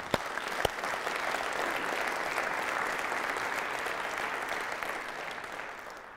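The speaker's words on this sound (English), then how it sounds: "So a big round of applause and well done for that." An audience at a live-streamed meat industry event applauds, a dense steady wash of clapping that swells quickly after two sharp early claps, holds evenly for several seconds, then begins to taper.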